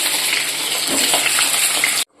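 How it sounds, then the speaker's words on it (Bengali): Potato pieces sizzle and fry in a hot pan, a loud, dense crackle that continues without pause before cutting off abruptly. "আলু ভাজা বসিয়ে দিই।"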